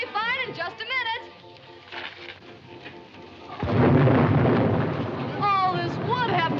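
Rain pours and thunder rolls during a storm in a 1941 colorized comedy film, a sudden loud rushing downpour with a deep rumble breaking in midway, after and under voices talking.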